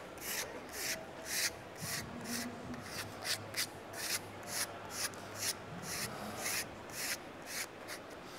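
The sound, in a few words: applicator pushing wallpaper seam together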